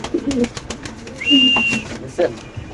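Lahori pigeons, a male and female pair, coo softly in short low bursts close by, mixed with a brief whistle-like tone and people talking over them.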